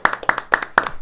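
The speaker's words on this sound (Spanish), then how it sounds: "Yo tengo que darle un aplauso" Close, crisp hand clapping at a quick steady pace, about four sharp claps in one second, with no talking over it.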